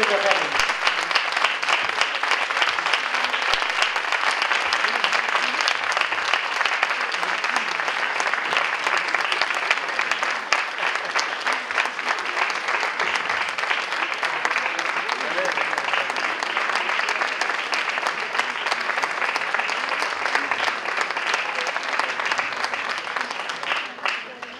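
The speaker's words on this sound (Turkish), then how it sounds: "Alkışlarınız kesilmesin. Devam etsin." Sustained, dense audience applause after a choir concert performance in Berlin, a steady wash of many clapping hands lasting about twenty-five seconds and tapering slightly at the end.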